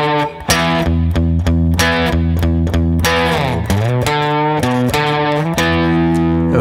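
Overdriven electric guitar playing a verse riff slowly, with a sliding note up the neck, repeated low chugs and a downward slide midway, loud and steady throughout.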